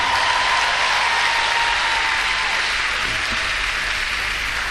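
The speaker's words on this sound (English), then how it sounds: "Give the Lord a clap offering now." Sustained applause from a church congregation fills the space, steady and dense with no talk over it.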